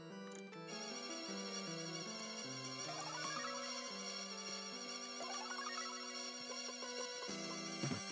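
A phone ringtone plays a bright, melodic electronic tune in stepped repeating notes, steady and moderately loud.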